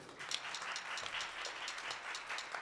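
Audience applause at a synagogue concert for a singer, a faint, dense patter of many hands clapping steadily throughout, heard alone with no voices over it.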